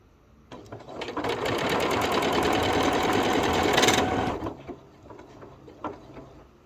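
An Elna 6200 Decorator's Touch sewing machine runs in one loud, close burst of rapid stitching lasting a few seconds, with light clicks and handling noises before and after.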